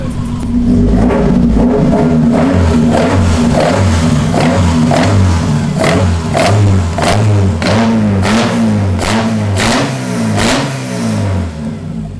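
A Toyota AE86 Corolla with a swapped 3SGE Beams engine revs repeatedly, the sharp blips rising and falling in a loud, close, steady sequence with no talking over it.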